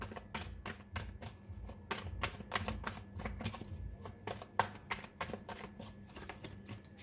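Tarot cards being shuffled by hand, a quick rhythmic series of soft, close riffling snaps repeating steadily at a gentle volume.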